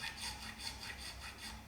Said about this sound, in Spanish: ahora paso a utilizar una lima triangular